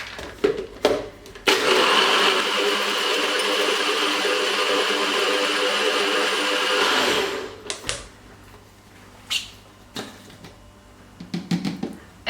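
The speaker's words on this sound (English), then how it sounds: "I'm gonna use the NutriBullet." A NutriBullet blender whirs steadily through a vegan smoothie, a loud continuous motor roar lasting several seconds after a few short clicks, then cutting off to quieter clattering and handling noises.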